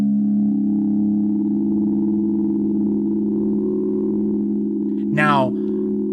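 A Befaco Oneiroi Eurorack synth module holds a steady, loud, sustained sine-like drone tone, with a brief rising chirp sweeping through near the end.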